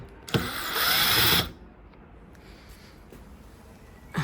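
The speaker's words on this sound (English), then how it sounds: "you get your Torx bit. That's a T20 there, and you remove the screws." Power driver backing T20 Torx screws out of a 2019 Mini Cooper tail light, one loud close whirring burst of about a second, with a brief restart at the end.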